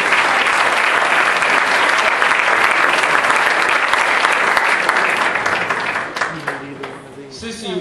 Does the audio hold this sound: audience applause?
yes